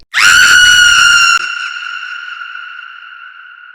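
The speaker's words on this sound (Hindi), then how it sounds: "और शालिनी ने जो दृश्य देखा उसे देखकर शालिनी के कंठ से एक दहशत भरी चीख उबल पड़ी।" A loud, sustained high-pitched scream that cuts off abruptly, leaving a long fading shrill tone ringing out alone.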